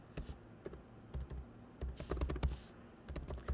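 Computer keyboard typing at close range, with quick irregular bursts of keystrokes and brief pauses between words, alone and without speech.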